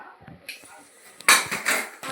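A metal spoon stirs spices in a cooking pot for a pitikipopu palav, giving a few sharp scraping clinks against the metal at close range after a quieter start.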